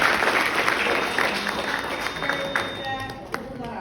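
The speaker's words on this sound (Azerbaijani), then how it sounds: "gəlin ən birinci Adnanın valideynlərinə bir əl çalaq" Audience applause at a solo concert, a steady wash of clapping from a crowd that holds for several seconds, with voices mixed in beneath it.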